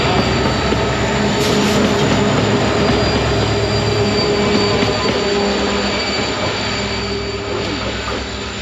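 A train rumbles steadily past close by, with wheels grinding and squealing on the rails in a continuous loud roar that fades slightly toward the end, near a hidden spot outside Kadaba.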